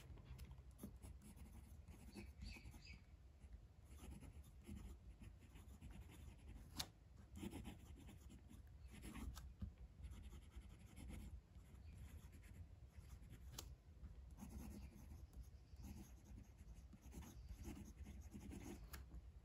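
A Platypus Pens Model 1 fountain pen writes across paper in a steady, faint scratching run of strokes with small pauses, quiet and close, no talking.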